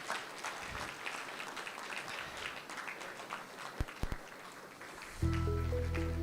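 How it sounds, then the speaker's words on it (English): Audience applause fills a church book-release event, a continuous spread of clapping from many people, followed by a loud, steady tonal hum at the end. "let's give a good applause"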